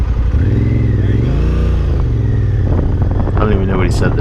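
A motorcycle engine hums steadily at low speed while the rider works the friction zone and rear brake to float around a full circle on an advanced rider course, with the rider talking throughout.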